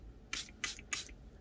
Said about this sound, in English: And let's use the dragonfly. And we'll just give it a light spray.